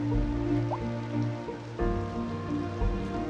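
Rain falls in the city-building game Cities: Skylines II as a steady background wash over low ambient tones, moderately loud and continuous, with no one talking.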